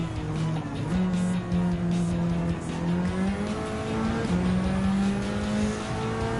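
A supercar engine in Gran Turismo 7 roars at full throttle in high gear, a loud, continuous tonal drone that climbs and dips with gear shifts, with faint tire squeal alongside.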